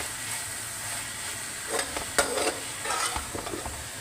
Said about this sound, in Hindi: अब हम इसमें डालेंगे भिंडी। ये डाल के इसको करेंगे मिक्स।